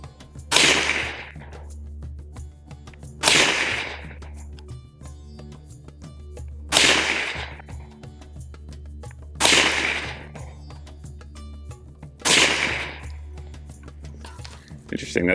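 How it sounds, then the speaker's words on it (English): Caracal CAR814 A2 AR-15 pistol with a 7.5-inch barrel firing Hornady American Gunner 300 Blackout 125-grain hollow point ammunition; five sharp, loud shots spaced about three seconds apart outdoors, each with a short decaying tail. "why don't we fire some Hornady American Gunner 300 Blackout, of course, 125 grain hollow point ammo"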